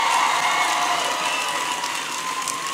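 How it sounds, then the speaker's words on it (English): An audience at a Concord High School event in Elkhart breaks into steady, dense applause, a loud continuous wash of clapping that tapers slightly over a few seconds, with no voices over it. "Can everybody please give Kelly a big round of applause for the great introduction?"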